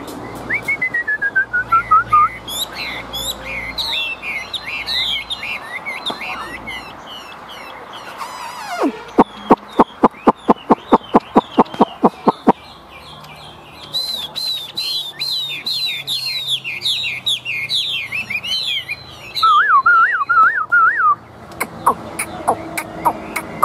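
A newly acquired Chinese hwamei songbird sings loudly and close by, with long runs of varied whistled phrases, rising and falling slurs and bursts of rapid repeated notes.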